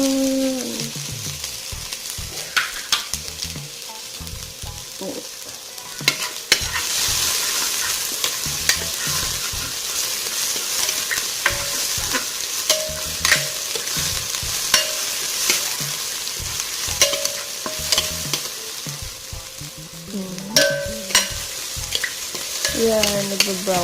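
Onion frying in a pan for chicken afritada produces continuous sizzling with frequent clanks and scrapes of stirring, loud and close, with louder bursts near the start and end.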